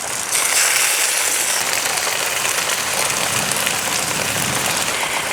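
Steady rain falling at midday, a dense, even hiss of drops on surfaces that holds at a constant level for several seconds, with no voices.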